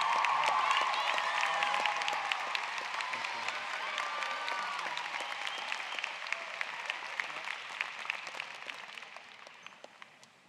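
Applause from the audience at a high school graduation ceremony starts full and fades gradually, thinning into scattered individual claps toward the end.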